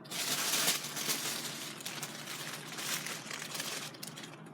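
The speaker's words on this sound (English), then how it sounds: "I'm going to first wrap my items in some tissue paper." Hot pink tissue paper crinkles and rustles continuously at close range as items are wrapped for shipping, with a few louder crumpling bursts.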